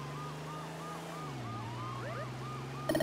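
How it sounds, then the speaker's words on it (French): An American police car siren wails in the video game Smuggler's Run, a looping up-and-down electronic tone over a low engine drone, with a second siren joining before a brief clatter at the end. "J'adore les sirènes de flics américaines."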